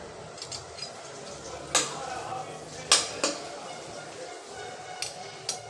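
Curry leaves go into a pan of softened onions for garlic rice, with a few sharp clinks and clatters of a spoon against the metal pan over a faint background hiss.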